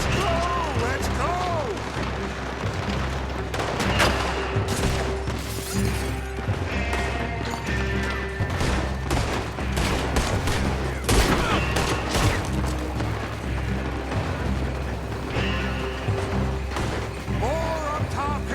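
A Red Dead Redemption 2 shootout erupts in dense, rapid volleys of loud gunfire with rattling mechanisms and crashes, sustained throughout as voices shout amid the shots.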